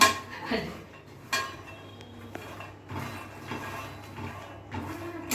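Makhana fox nuts are stirred and roasted in a pan, with a series of scraping rattles and clinks from the utensil against the metal, irregular and fairly close, separated by quieter gaps.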